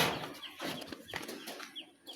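A pet pigeon flaps its wings as it escapes in a village, with a few short, soft flurries of wingbeats close by over a faint outdoor background.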